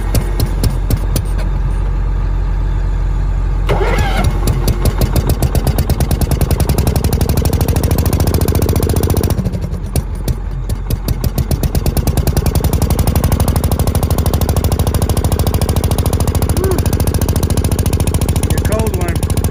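A heavy-duty engine runs in freezing snow at Mammoth Lakes, with its choke nearly frozen and cardboard just pulled off the muffler. It sounds as a loud, close, rapid chugging clatter that keeps up throughout.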